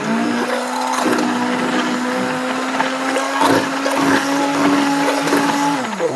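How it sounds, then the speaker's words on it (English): A stick blender whirs steadily while mixing cottage cheese for an egg scramble, a loud, close motor drone with slight pitch shifts and gritty churning, winding down at the end. "If I see them floating, I hit them with the stick blender"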